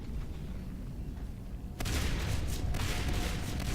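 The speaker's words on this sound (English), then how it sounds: "Oh, double shotguns." Shotgun blasts in a Halo match burst in partway through, loud and dense, dominating over a steadier background of in-game action and effects.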